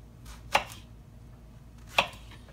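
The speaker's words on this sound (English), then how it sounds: "I like to cut my squash on the bias" Two sharp knife chops through squash on a cutting board, cut on the bias, spaced over a second apart, close and crisp in a quiet kitchen.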